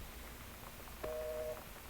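A telephone is dialed in the video game Gone Home, a short single electronic tone partway through, faint over a quiet room background.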